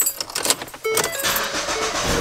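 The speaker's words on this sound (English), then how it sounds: "Just turn the car on real quick." A car engine cranking and catching after a jangle of keys, then settling into a steady idle close by, ahead of testing LED reverse lights.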